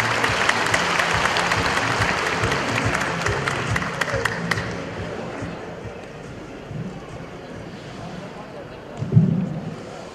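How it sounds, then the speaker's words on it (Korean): Applause from an audience at a Korean commemorative ceremony marking a general's 800th birth anniversary, a dense wash of clapping that fades over the clip while a voice speaks over it. "박수로 환영해 주시기 바랍니다"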